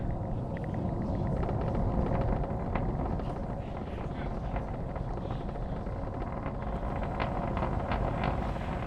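A SpaceX Falcon 9 rocket climbs away from Launch Complex 39A at Kennedy Space Center, its engines a heavy, continuous low rumble and roar buffeting the microphone like wind, loud and unbroken throughout.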